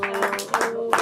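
Audience clapping at a school closing ceremony, brief uneven bursts of hands over a steady background hum, moderately loud.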